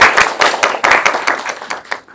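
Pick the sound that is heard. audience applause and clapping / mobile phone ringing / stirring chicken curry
audience applause and clapping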